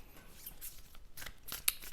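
Oracle cards from an Awakening Avalon deck are shuffled in quick, soft papery bursts, crisp riffling swishes with one sharper snap near the end, close and fairly quiet.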